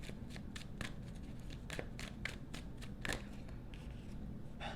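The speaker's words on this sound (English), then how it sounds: "Let's get 3 shuffles here." Tarot cards being shuffled by hand, a run of soft papery riffles and flicks in irregular bursts, close and quiet, with no voices.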